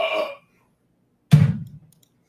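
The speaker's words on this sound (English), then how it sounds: "You told me to burp." A single short, low, throaty burp comes right after a brief spoken phrase, with a rough rumbling tail that fades within half a second.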